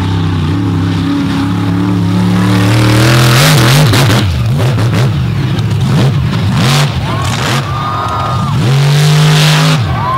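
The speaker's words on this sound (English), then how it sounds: "another Ford-bodied vehicle with a big block Chevy in the back" A Ford-bodied drag race car with a big block Chevy engine roars loud and near, its engine tone rising and dropping as it revs, with an announcer talking over the racket.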